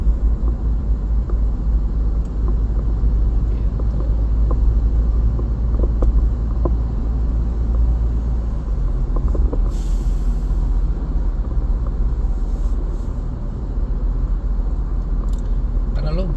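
Steady engine and road rumble inside a car cruising at about 60 km/h on a busy inner-city toll road, a continuous loud drone with faint clicks, while someone talks over it.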